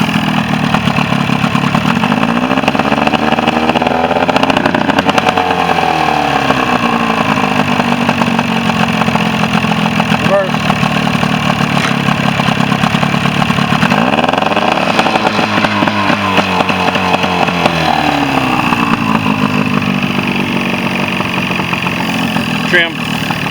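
1994 Force 50 outboard motor on a Tracker boat idling in gear, a steady buzzy drone that rises and falls with several throttle blips, while people talk near the running engine.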